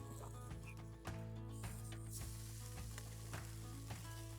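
Rice fries on a camp griddle outdoors, a steady loud sizzle with repeated scraping and stirring strokes from a spatula, no talking.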